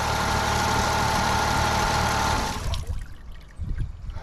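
A smooth, steady Honda BF30 outboard engine idle hums close by on an inflatable boat, then cuts off partway through, leaving quieter low rumbles and faint water sounds.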